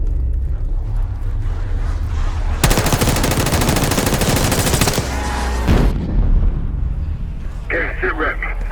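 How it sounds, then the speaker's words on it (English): Bursts of gunfire from a lower floor of a building, with a dense sustained volley in the middle that rings out loud and harsh against steady background noise, followed by a brief later crackle. "You hearing gunfire? Yeah. Sounds like it's coming from one of the lower floors."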